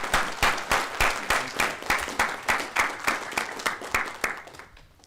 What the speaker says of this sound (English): Can we have a hearty round of applause for these two individuals and our entire Bartlett team?